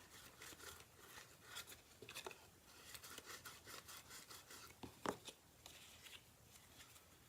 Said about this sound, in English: Quick burnish.